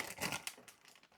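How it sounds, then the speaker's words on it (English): Plastic food packaging crinkles and crackles up close in a home kitchen, a quick burst of irregular rustles that gradually eases off, with no talking. "have a really big problem with packaging."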